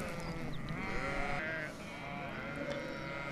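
A large flock of sheep bleats continuously, many overlapping calls near and far over a steady shuffle of moving animals, as the herd arrives to join another.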